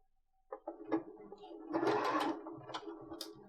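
A sewing machine stitches a kids' leggings hem in the round, its motor whirring in short starts and a longer steady run, close and moderately loud, with light clicks between bursts.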